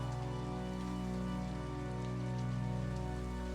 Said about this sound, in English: And still, the rain keeps going beyond the window, doing what it does.